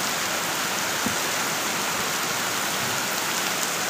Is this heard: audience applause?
no